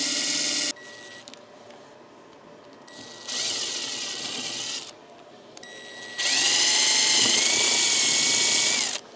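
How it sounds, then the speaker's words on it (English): A power drill boring pilot holes to mount a gloss black spoiler on a Mercedes-Benz A Class, in three separate whirring bursts, the last the longest and loudest, with quiet pauses between them. "we're going to do the pilot holes for the other 2 holes here"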